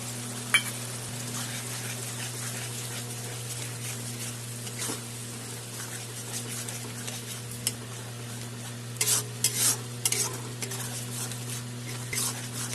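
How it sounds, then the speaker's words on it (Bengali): Spinach paste is added to cooked-down spices in a pan for an egg curry, producing a low, steady sizzle with stirring scrapes and a few clinks of a utensil later on. "মশলা কষানো হয়ে গেছে, এখন পালং শাকের পেস্ট দিয়ে দিলাম।"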